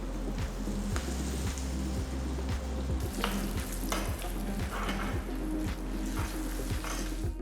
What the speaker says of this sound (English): Once the oil is heated, add 1/2 teaspoon of mustard seeds, 1/2 teaspoon of cumin seeds, 1 teaspoon of urad dal, 2 red chillies